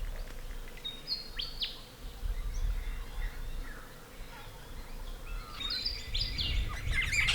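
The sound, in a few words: pair of sacred kingfishers calling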